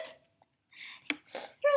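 A reader's voice imitates hiccups during a children's story reading: a few short, sharp hiccup-like bursts separated by brief pauses, close and fairly quiet.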